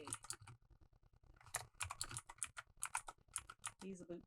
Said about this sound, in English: Oh my gosh, my typing is all bad.